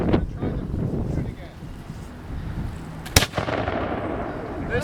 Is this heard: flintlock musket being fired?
yes